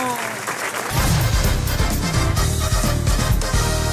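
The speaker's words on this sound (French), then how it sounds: "Allez l'applaudir." A studio audience on a French radio comedy show breaks into loud, sustained applause that swells quickly and holds steady, with voices faintly mixed in.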